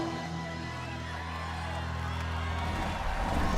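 A crowd cheers for a competitor named Flip at the American Ninja Warrior National Finals, a steady wash of whoops and applause that swells slightly toward the end, with a voice speaking over it.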